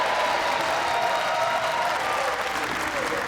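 A bowling crowd at the Weber Cup breaks into dense, sustained applause after a strike, loud and continuous, with a few cheers mixed in.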